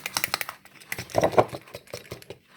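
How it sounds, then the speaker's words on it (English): Metal whisk tapping and stirring baby Hahn's macaw hand-feeding formula in a small container, a quick run of close, light clicks and scrapes with a busier burst in the middle. "whisking the food around until it cools"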